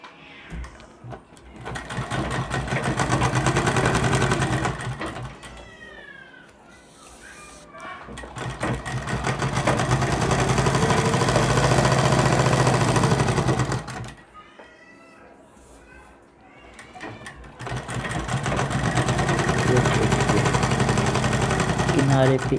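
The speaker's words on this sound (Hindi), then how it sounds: "फिर एक सिलाई हमने इधर किनारे पे लगा देनी है" A sewing machine runs in bursts while stitching along the edge of a puff sleeve, loud and close, with pauses between runs where a voice speaks.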